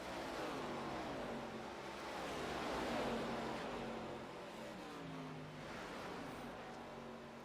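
ARCA stock cars circle an oval track during a race, a steady distant engine roar rising and falling as cars pass, with no talk over it.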